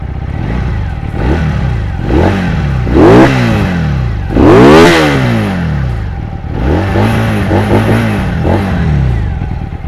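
A Keeway Benda Napoleonbob 250 motorcycle engine starts and is revved repeatedly, each loud rev climbing and falling back to a rough idle, close by.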